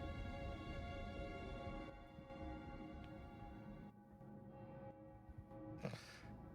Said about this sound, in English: The only one making a sound I hear is the bell, so I'm guessing that's the church.